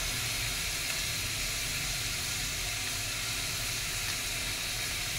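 Garlic paste sizzles in hot oil in a pan for Bengali aloo chop, a loud, continuous broadband hiss that holds steady throughout, close up with no talking.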